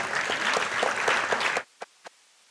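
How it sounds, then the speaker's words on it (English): Audience applause at an inaugural ceremony, a dense burst of clapping for about a second and a half that cuts off abruptly, followed by two isolated late claps. "A big round of applause for Mr. Ravindra Mishra."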